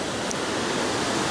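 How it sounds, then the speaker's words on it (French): A waterfall at Tad Lo, Laos, rushes in a steady, dense roar of broadband noise, loud and continuous with no other sounds. "je suis allé de cascade en cascade"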